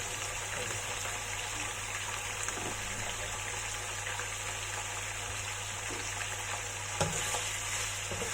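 Pieces of belly pork frying in a home kitchen pan for chicken and pork adobo make a constant close sizzle and crackle. Faint clinks and small pops sound through it.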